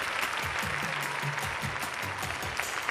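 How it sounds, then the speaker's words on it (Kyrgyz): An audience applauds at a women's day concert with steady, dense clapping throughout. The sound is fairly distant and continuous, with no break. "Вручаем под ваши несмолкаемые аплодисменты."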